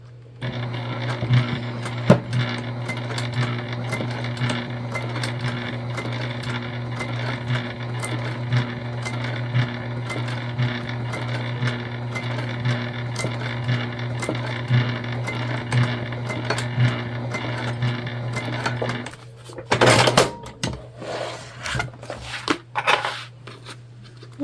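A Juki sewing machine stitches a quarter-inch seam on a structured bag, running as a steady close hum with rapid needle ticking for about twenty seconds, then stopping into a few sharp clicks and handling sounds.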